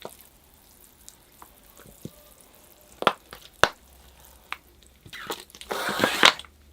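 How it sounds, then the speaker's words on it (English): A bonsai tree being watered indoors in a plant room, with scattered drips and splashes at first, then a brief, louder burst of pouring water near the end. "I'll give the tree a watering"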